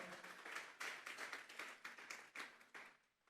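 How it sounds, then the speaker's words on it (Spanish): Congregation clapping rhythmically during a Sunday church service, many hands together in a steady beat, moderately loud and slightly reverberant, with no talking. "Vamos a darle una ofrenda de palmas a Dios en esta hora."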